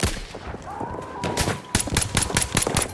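Bursts of rapid gunfire and single shots in the World War I shooter Battlefield 1, repeated sharp cracks in uneven clusters over game ambience, moderately loud and close.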